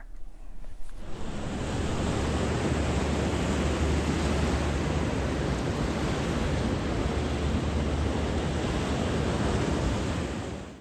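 Artificial surf waves at a large wave park cove in South Korea, heard as a steady broadband rush of breaking water that swells in and holds, fairly faint and continuous, no voices.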